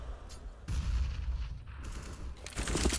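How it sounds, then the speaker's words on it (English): Grenades going off in a Counter-Strike match on the Inferno map: a rapid series of loud, booming blasts with ragged rumbling tails, one burst after another, with no talk over them. "Grenades everywhere."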